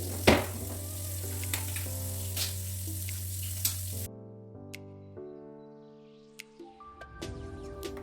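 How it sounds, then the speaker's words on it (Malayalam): Shrimp frying in a hot pan on a home stove: a close, steady sizzle with a few sharp crackles for about four seconds, then it cuts away to quieter tonal background sounds. "അപ്പോൾ അതിൻ്റെ ഇടയിൽ ഞാനവിടെ ചെമ്മീൻ വറുക്കാൻ വെച്ചിട്ടുണ്ട് കേട്ടോ"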